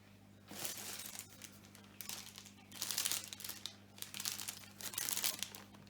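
Crinkly plastic bag of fresh recipe ingredients from a meal-kit box handled in bursts of rustling and crumpling, close and fairly soft, with no talk.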